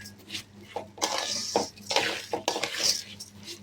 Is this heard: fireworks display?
no